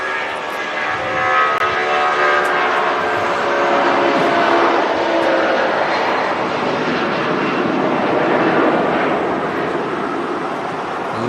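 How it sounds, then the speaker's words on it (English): Airliner with Rolls-Royce engines taking off at Manchester Airport, a loud, sustained roar with a rasping buzzsaw edge that swells and holds throughout, steady and close with no talk over it. "Love the buzzsaw noise of those Rolls-Royce engines."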